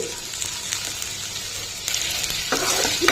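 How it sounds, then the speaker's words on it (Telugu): Okra and other vegetables for a chutney fry in a pan with a steady close sizzle that grows louder near the end, with light stirring and no speech. "ఇవి కూడా చక్కగా ఫ్రై అవ్వాలండి"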